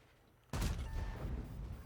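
A tank cannon fires once in a World of Tanks style battle, a sudden loud boom followed by a rumbling decay and a brief ringing tone, with no voices.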